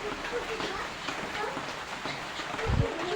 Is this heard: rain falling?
yes